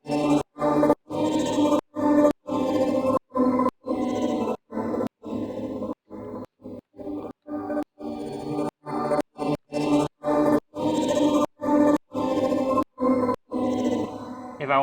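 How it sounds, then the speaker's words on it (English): Choir sample sidechained to a kick drum, its sustained voices ducking sharply in a steady rhythmic pumping pattern, each beat pulling the level down with a sucking swell back up, loud and alone without drums. "it still gives it that sucking feel just because the level of the whole sound comes down so"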